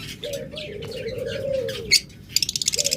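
Caged pet birds such as lovebirds, budgerigars and Java sparrows call at close range, with a steady cooing note under a run of sharp chirps and rapid tweets toward the end, and no talking.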